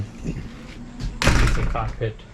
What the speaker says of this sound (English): cockpit door right there that's going to close as well.